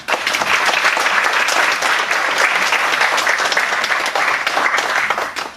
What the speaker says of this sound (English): have everyone give themselves a round of applause